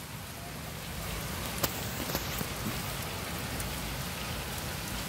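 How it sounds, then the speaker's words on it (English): Heavy rain pours down continuously in New York City, a dense, loud hiss, with a couple of brief sharper drips or knocks standing out early on. "I think it's raining"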